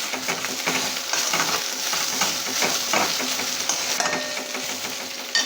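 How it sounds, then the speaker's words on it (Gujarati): Steady sizzling as coriander-cumin powder and turmeric roast in a pan over a low flame, with faint stirring scrapes and clinks running continuously at moderate loudness. "ગેસની ફ્લેમ એકદમ સ્લો રાખી આ રીતના મસાલા શેકાય"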